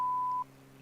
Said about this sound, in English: Was that an intentional beep?